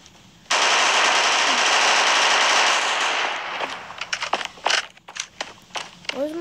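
Rapid automatic gunfire in a shooting video game rattles out as a loud, dense burst lasting about three seconds, followed by several sharper separate shots and clatter, with a voice briefly speaking near the end.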